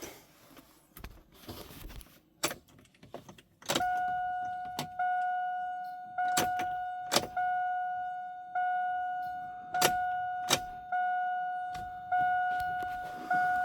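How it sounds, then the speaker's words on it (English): Fuel pump and relay on a Cadillac Escalade cycle as the key is turned on and off, giving sharp relay clicks and a steady whining pump hum that starts, drops and restarts several times at close range. "I think I hear a fuel pump. I hear the relay functioning"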